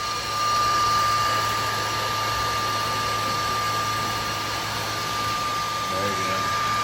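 A Dyson 360 Heurist robot vacuum sucking up debris along a baseboard gives a steady, loud whirring suction roar with a constant tone that holds throughout.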